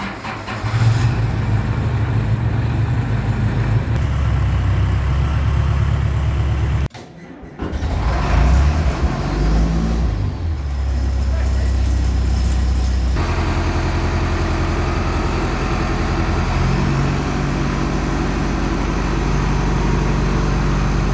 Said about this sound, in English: just got the dozer out, 580 out, Chris's tractor.